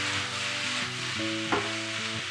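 Pork liver frying briefly in a hot pan beside bell pepper, a soft continuous sizzle with one brief stirring scrape, over background music.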